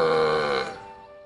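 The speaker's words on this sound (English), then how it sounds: "cows burping and Trump talking out of his arse" A single loud, drawn-out burp, a cow burping sound effect, rumbles for about half a second before trailing off into a fading tail.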